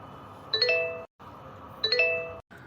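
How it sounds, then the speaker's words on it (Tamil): A mobile phone sounds two identical chiming message notification tones about a second and a half apart, clear and fairly close against a quiet room with no talking. "மெசேஜ் வந்துட்டே இருக்கு"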